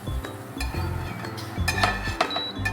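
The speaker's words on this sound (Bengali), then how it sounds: "এটাকে আমি তুলে নিলাম, তুলে আমি প্লেটে ঢেলে নিচ্ছি।" Fried English breakfast food is lifted from the pan onto a plate, with light clinks and taps of a utensil against dishes, close and soft, and a couple of sharper metallic knocks near the end.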